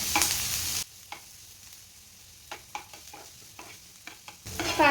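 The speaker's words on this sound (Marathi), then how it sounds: "तेल आहे ते गरम झालेले आहे, त्यामध्ये बारीक चिरून घेतलेला कांदा घालून घेते." Finely chopped onion hits hot oil with a loud burst of sizzling, then settles into soft frying crackle broken by several sharp stirring clinks, before another loud sizzle swells at the end.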